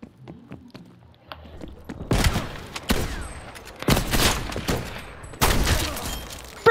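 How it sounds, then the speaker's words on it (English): Sniper rifle shots ring out in a Call of Duty: Black Ops Cold War snipers-only moshpit match, three loud sharp cracks spaced a second or two apart over faint ambient game noise and scattered small clicks. "Hostile sniper's working."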